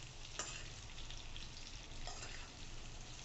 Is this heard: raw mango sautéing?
yes